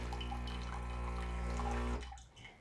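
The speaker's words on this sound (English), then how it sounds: "what it's going to do is run some hot water through here to clean out all of the milk residue" A coffee machine runs hot water through its milk system for a rinse, giving a steady loud hiss of rushing water with a low hum. After about two seconds it cuts off sharply, and a few quieter drips and gurgles trail behind.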